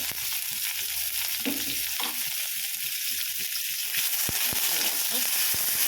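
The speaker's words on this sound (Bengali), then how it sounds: "এটাকে পেঁয়াজগুলো দিয়ে দিলাম এর ভিতরে" Onions sizzle steadily in oil in a pan, with a continuous bright crackle and occasional sharp taps of a utensil stirring near the end.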